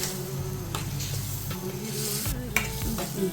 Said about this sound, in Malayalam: നാരങ്ങ ഇട്ട് ഇളക്കി കൊടുക്കണം.